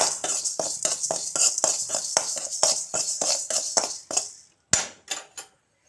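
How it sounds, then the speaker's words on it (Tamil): Rice dry-roasting in a pan for sambar powder, stirred briskly with a metal spoon that scrapes and clinks in a quick steady rhythm over a dry hiss, ending in a few separate knocks. "கடைசியாக அரிசி வறுத்துடுங்க. அரிசி நல்லா பொரியணும்."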